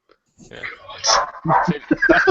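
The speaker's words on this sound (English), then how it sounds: "That's really pissed off someone's dog" A dog barks in several short bursts mixed in with overlapping voices talking, fairly close and at moderate loudness.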